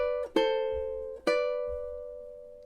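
Ukulele playing the first measure of a song: two sharp plucked double stops about a second apart, each ringing out and slowly decaying, close and fairly quiet, no voices.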